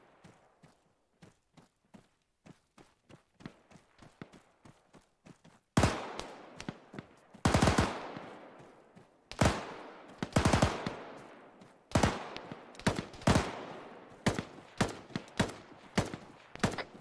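Machine gun fire in Arma 3, distant rhythmic shots at first, then loud close bursts of automatic fire in repeated strings with brief pauses between.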